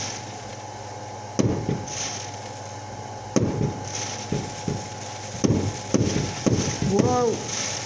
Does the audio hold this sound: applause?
no